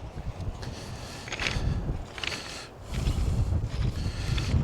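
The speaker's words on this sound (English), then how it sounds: "A bit breezy tonight." Breezy wind buffets the microphone on a coastal walk at Chouet Bay, Guernsey, in gusty, rushing waves of low noise that rise and fall, with faint crunching steps underneath.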